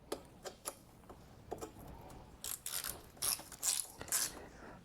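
A ratchet tightens the 10 mm coil mount bolt on a Honda Africa Twin motorcycle, giving close, sharp clicking bursts in short uneven runs with brief pauses, and no voices.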